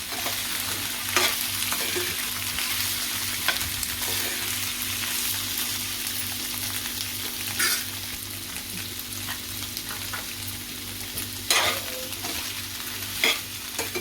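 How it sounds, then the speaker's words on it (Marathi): Potatoes are stirred in a hot pan, giving a continuous sizzling fry broken by occasional louder scrapes and knocks of the spoon, close and without talk. "आता आपण बटाटा घालूया मिक्स करूया"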